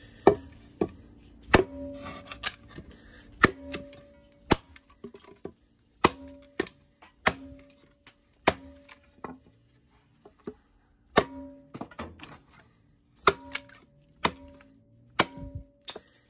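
Sharp, woody chops from an axe lighter in the hand than a Von Temsky, biting into wood at an irregular pace, roughly twenty blows with short pauses between, close and fairly quiet with faint ringing after each strike.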